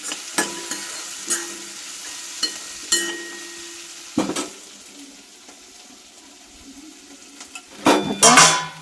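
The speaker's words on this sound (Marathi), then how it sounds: "आता परतून घेतले मी, त्याच्यामध्ये कोथिंबीर टाकली आणि हे परत परतून घेते." Chopped bhakri with salt, chaat masala and coriander leaves being sautéed in a pan, with a steady low sizzle broken by loud, irregular scrapes and taps of a spatula against the metal, a cluster of heavier clatters at the end.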